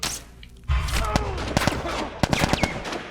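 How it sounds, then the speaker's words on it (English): Gunfire in The Last of Us video game, a rapid burst of several sharp shots with a heavy boom, over faint game ambience and a brief voice. "That was a clean headshot."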